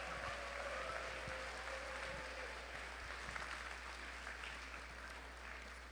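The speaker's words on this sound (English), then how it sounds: "let's give everybody here a round of applause just for making it here" A large audience applauds at the opening ceremony of the Illinois FTC robotics state championship, a sustained roar of clapping that fills a big hall, with a low steady hum beneath it and a slight fade toward the end.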